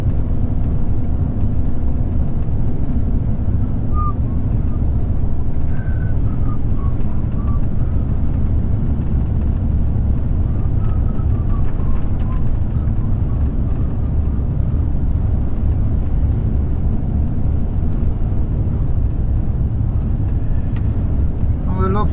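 A road train truck's engine drones low and steady as the rig gathers speed on the road, loud and continuous throughout with steady road rumble.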